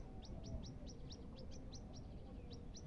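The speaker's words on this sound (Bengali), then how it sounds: "তো পাখিটা অনেক কান্না করছে" A small black caged bird gives a quick series of about a dozen high, evenly spaced chirps. The calls are faint and sound over a low, steady background rumble.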